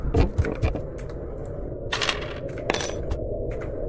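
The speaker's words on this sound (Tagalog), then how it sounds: "Dito maghulog tayo ng barya dito." In the yokai horror game IKAI, a coin drops onto a hard surface, giving a few sharp metallic clinks and bounces followed by a brief rattling settle, close and clear with no talk.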